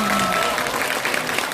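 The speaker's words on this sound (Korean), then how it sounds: "박수 부탁드립니다." An audience at a gathering claps in a brief, steady round of applause, with a voice briefly audible at the very start.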